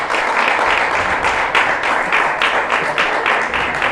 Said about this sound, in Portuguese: as palmas do Senhor